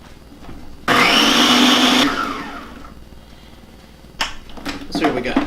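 A food processor chops almonds coarsely for a keto pie crust in one loud, grinding burst of about a second, then winds down into a quieter whir, followed by a few clattering sounds.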